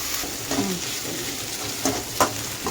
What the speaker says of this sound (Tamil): வெங்காயத்தை போட்டு வெங்காயம் வந்து பார்த்திங்கன்னா பொன் வறுவலாக வர்ற மாதிரி வதக்கணும்